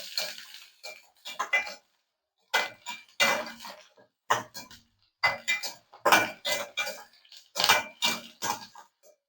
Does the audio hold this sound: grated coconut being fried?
yes